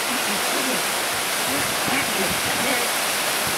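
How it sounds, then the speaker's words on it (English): The waterfall at Peguche Falls, Ecuador, roars as a loud, steady wash of broadband noise with no breaks, heard from nearby with faint voices mixed in beneath it. "So you see there's a waterfall."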